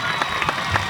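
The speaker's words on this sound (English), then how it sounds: "a nice round of applause for him" A high school football crowd at a 2003 Wampus Cat game against LR McClellan applauds an injured player, with a steady distant wash of clapping and crowd noise and no clear talk.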